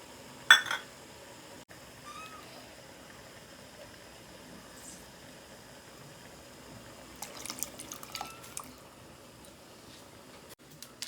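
Tamarind juice is poured and splashes into a pot of simmering sambar, a short burst early on and a longer trickling pour near the end, with quiet stretches between.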